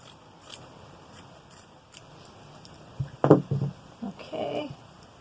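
Fabric scissors cut through the sleeve edge of a T-shirt being altered into a sweatshirt, giving a few close, crisp snips in quick succession after a quiet stretch of faint handling.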